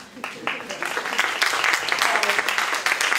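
An audience at a talk on sexuality and functional diversity breaks into applause, the clapping building and holding steady throughout.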